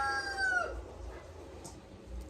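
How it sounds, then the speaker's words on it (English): On a flower farm, a rooster's crow trails off at the start, followed by quiet outdoor ambience with faint clucking from chickens in the background. "the chickens do not want me to talk"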